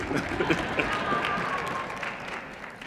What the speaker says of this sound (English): And that round of applause for me too.